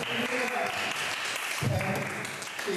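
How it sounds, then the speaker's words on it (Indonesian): A church congregation at a Sunday service in Rotterdam claps together in steady, sustained applause while a voice speaks over it. "Mari kita beri tepuk tangan untuk kemuliaan Tuhan kita."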